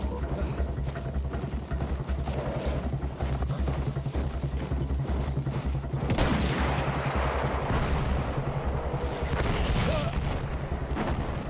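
Artillery shelling in a Battlefield 1 battle, a continuous dense rumble of distant booms and blasts with a sharper swell of explosions about halfway through, low and heavy throughout.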